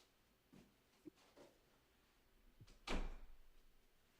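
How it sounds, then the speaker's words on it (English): Door pushed shut in a quiet room, faint shuffling and soft knocks leading to one firm closing thud with a brief rattle that fades away. "I'm gonna shut my door."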